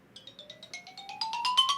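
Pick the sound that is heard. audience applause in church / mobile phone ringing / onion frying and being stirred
mobile phone ringing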